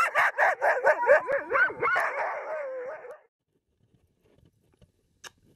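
Sled dogs at a lodge in Alaska bark and yelp in a fast excited chorus that rises into howls for about three seconds, then falls nearly silent with a few faint distant sounds.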